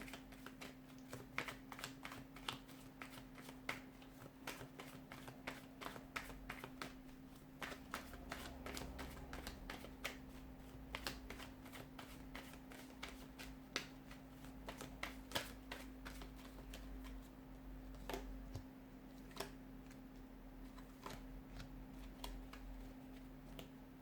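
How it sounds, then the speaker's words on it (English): Tarot cards are shuffled repeatedly in quick, crisp riffles and taps, soft and close, over a low steady hum. "let's give the cards a shuffle and begin."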